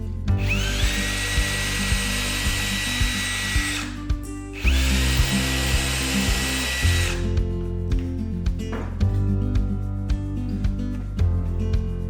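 A power drill drives a screw into a wooden table saw jig, with steady whining bursts of the motor, a brief pause, then a slower grinding run as the screw seats, loud and close.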